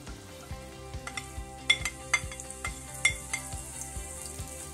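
Julienned onion frying in a few spoonfuls of hot oil, a soft steady sizzle with light clinks of a utensil against the pan at intervals, close and fairly quiet.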